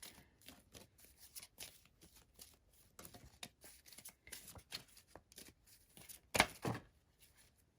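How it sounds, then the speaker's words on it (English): Tarot cards are shuffled by hand, a steady run of quick riffling flicks and soft slaps close by, with one sharper snap near the end as cards are tossed out; no one speaks. "Spirit's been pretty good about tossing out the cards here"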